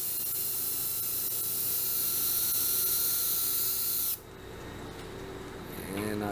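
Lacquer sprayed onto a resin-and-wood vase in a steady, close hiss for about four seconds, then cutting off to quiet room tone.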